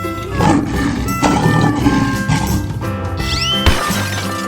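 A lion roars in a 3D animal slide video game, a loud, growling roar set among busy game effects, crashes and shattering sounds, with a brief whistling sweep near the end.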